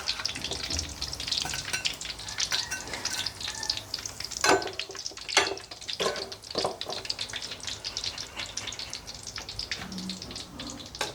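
Sun-dried pork frying in hot oil, a steady close sizzle and crackle running throughout, with occasional louder pops and stirring scrapes, no voices over it.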